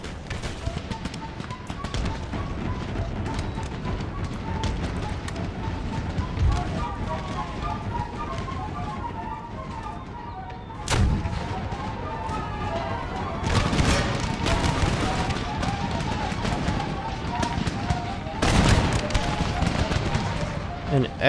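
Empire: Total War battle with cannon and musket fire and explosive shells hitting, a steady crackle of volleys under a talking voice, with sharp loud blasts near 11, 14 and 19 seconds.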